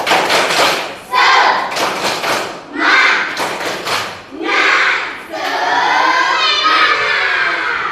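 A classroom group bursts into a loud rhythmic clapping chant, bursts of unison claps alternating with shouted group responses, ending in a long sustained cheer.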